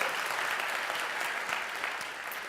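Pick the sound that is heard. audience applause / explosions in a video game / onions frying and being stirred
audience applause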